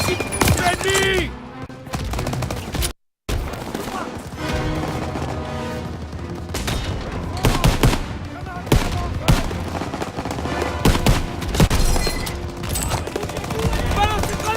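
Battlefield combat in the World War II shooter game Call of Duty WWII: bursts of rifle and machine-gun fire crack and rattle over rumbling explosions, with a brief dropout and voices calling out amid the gunfire.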